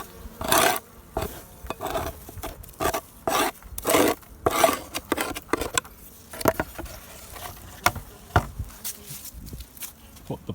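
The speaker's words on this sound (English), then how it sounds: "So I'll just take this over here. Scrape the dead out." Dead bees are scraped off a beehive bottom board, a run of close, rough rasping strokes in uneven bursts, with some lighter scrapes and taps toward the end.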